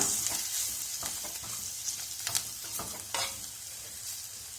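Dal powder lightly frying in a pan with curry leaves for curd sambar, a soft steady sizzle with scattered scraping stir strokes, close and fairly quiet, no voices.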